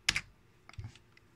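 A password being typed on a computer keyboard, heard as a quick pair of clear key clicks followed by several softer, quieter taps, all brief and close with no voices.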